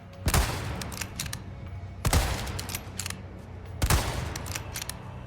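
A sniper rifle in Resident Evil 4 Separate Ways fires three loud, sharp shots at even intervals of roughly two seconds, each trailing into a mechanical rattle, with no talk.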